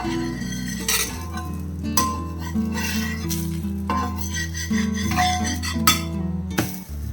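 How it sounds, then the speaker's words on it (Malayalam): A spatula flips a green gram dosa (pesarattu) on a hot pan, giving a few scraping clinks and stirring sounds over steady sizzling, with music-like tonal background throughout. "അപ്പം നമുക്കിതൊന്ന് മറിച്ചിട്ട് കൊടുക്കാം"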